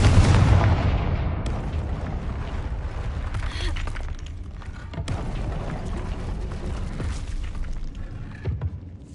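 A Confringo fire-blast spell going off in a Hogwarts game, a loud booming explosion with a heavy low rumble that rolls on for several seconds amid ongoing game noise.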